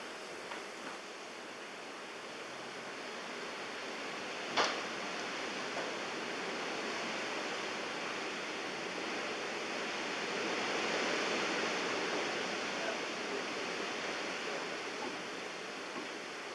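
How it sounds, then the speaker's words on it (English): Wet snow showers fall at Blackheath as a steady, broad outdoor hiss that swells slightly, with one faint knock early on and no voices. "We got some wet snow showers at Blackheath."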